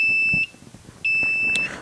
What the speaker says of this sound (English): beeping sound.